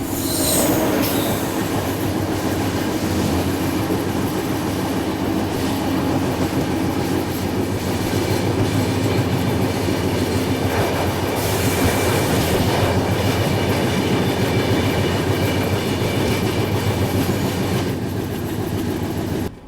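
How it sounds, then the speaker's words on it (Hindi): Tamil Nadu Express passenger train running past a railway crossing, a loud continuous rush of wheels on rails with rhythmic clatter and metallic squeal, close by and sustained throughout with no talk. "तो ये आ रही है लेजेंडरी तमिलनाडु एक्सप्रेस।"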